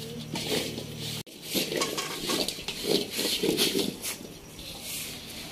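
Mango pieces being mixed with salt and turmeric in a metal pot for mango pickle, giving steady scraping, stirring and clinking of utensil against pot, close and moderately loud, with no talking.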